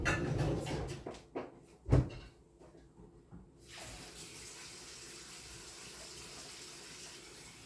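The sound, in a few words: water pouring into blender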